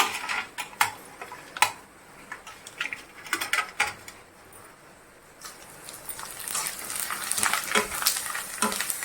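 Pieces of food frying in hot oil, puffing up like vadiyalu as they hit the pan, give off an irregular crackling sizzle with scattered sharp pops that build to a denser fizz near the end. Close and fairly quiet, with no talking.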